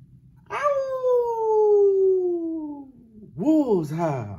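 Children imitate wolves howling in a music-class game: one long howl that slides slowly downward, then a shorter wavering howl, both loud and close.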